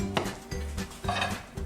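Soft scraping and light clinking as lardons are spread around a baking dish for tartiflette, a few brief close utensil strokes against the dish, with no talking.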